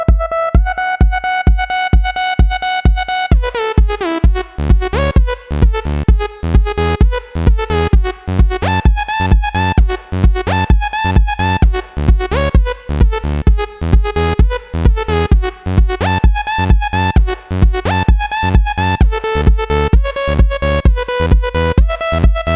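A melody played on the FL Studio 3xOsc synth, a loud, bright, buzzy lead over a steady pulsing bass beat, looping rhythmically with regular dips, no voices.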